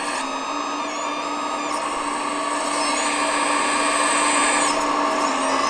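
An RC hydraulic excavator's electric motor gives a steady, loud, high-pitched whine that climbs in pitch as the revs rise, with no one talking.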